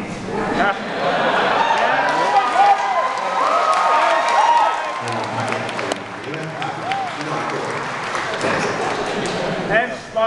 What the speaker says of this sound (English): let's give them a round of applause from the heart